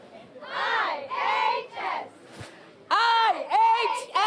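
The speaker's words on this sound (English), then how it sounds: "I hear you girls have a cheer to teach me" Cheerleaders shouting a chanted cheer in rhythmic, sing-song phrases, loud and close, with a short pause midway before a louder second burst of chanting.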